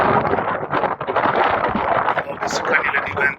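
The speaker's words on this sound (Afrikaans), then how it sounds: "Dus kan julle die wind ook hoor." Wind gusting steadily across the open salt pan of Piper Pan in Botswana's Central Kalahari, a loud, continuous rumbling buffet on the microphone with a brief brighter whoosh near the end.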